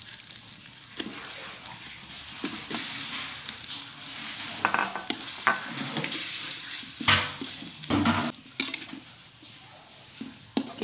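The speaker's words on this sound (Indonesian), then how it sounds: "Kita masukkan ayamnya ya." Chicken pieces hit a pan of sautéed spices and fry with a steady loud sizzle, broken by scraping stirs and clanks of the utensil against the pan, close up.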